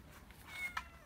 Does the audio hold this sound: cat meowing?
yes